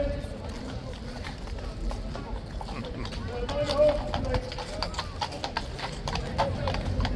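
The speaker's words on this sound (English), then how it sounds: "And you must be able to hear that clip clop." Steady clip-clop of police horses' hooves on pavement, several animals walking together, with voices and crowd noise in the background.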